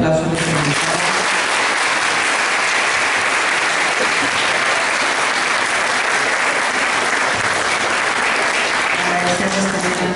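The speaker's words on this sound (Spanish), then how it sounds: "les agradecería que le diéramos un fuerte aplauso a nuestra invitada" A seated audience at a talk on political violence against women applauds their guest speaker, with dense, loud, sustained clapping that fills the whole stretch at an even level.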